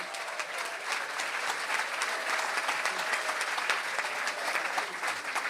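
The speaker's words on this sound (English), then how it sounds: "A special round of applause for the 521 Italians we've added to the monument today" Steady applause from a crowd of attendees at an outdoor monument unveiling ceremony honoring Italian migrants, dense and even throughout at moderate distance, with no one speaking over it.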